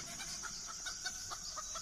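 Faint poultry chickens cluck repeatedly in a busy, agitated chorus at night over a steady high-pitched hum.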